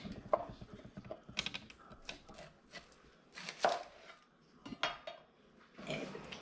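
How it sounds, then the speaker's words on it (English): A knife chops through an onion on a cutting board, irregular clusters of crisp, close thuds and clicks separated by short pauses. "First, let's cut up this onion to make those onion rings."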